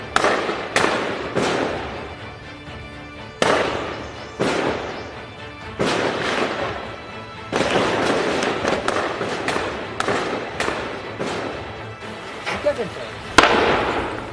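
Bursts of gunfire during a counter-militant encounter with security forces in a village in Handwara, Kashmir, heard as repeated sharp, loud cracks and crackling volleys at irregular intervals, some close and booming, with echoing tails between shots.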